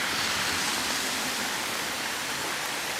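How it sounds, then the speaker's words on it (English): Rainwater pouring steadily from roadside gutters into a drain on Old Lynchburg Road, a continuous close, loud rush of splashing water with no voices. "The gutters direct the water into the drain."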